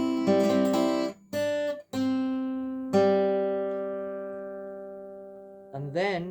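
Guitar plays Wildwood Flower in Carter Scratch style: a few plucked and brushed notes, then a long ringing chord that fades slowly, close and alone.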